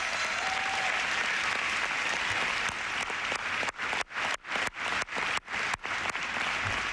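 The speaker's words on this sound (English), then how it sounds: "Give them a big round of applause." Sustained applause from a large crowd at Elmendorf Air Force Base in Anchorage honours chief master sergeants and command sergeants major, thick and even at first, then thinning into several distinct rhythmic surges near the end.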